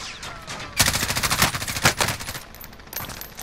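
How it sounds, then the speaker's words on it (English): Bursts of rapid automatic gunfire in the Call of Duty Warzone video game, loud and close, a dense rattling volley that runs for a couple of seconds and then trails into fainter shots. "The guy that you downed maybe is shooting me up a little bit."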